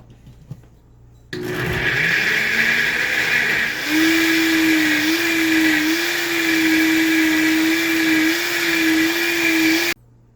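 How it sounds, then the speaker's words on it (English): A blender whirs loudly through cooked soft butternut squash for a Thai curry bisque, starting abruptly, its motor pitch rising slightly midway, then running steadily for about eight seconds before cutting off. "So next step is going to be blending it."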